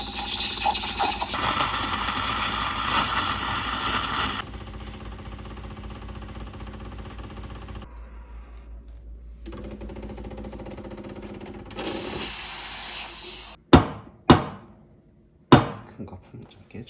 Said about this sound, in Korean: 드라이 카푸치노는 폼을 좀 단단하고 쫀쫀하게 만들 거여서 강하게 스팀을 할 거예요.